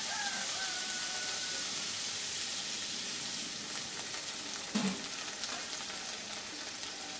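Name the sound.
water added to frying paneer masala, sizzling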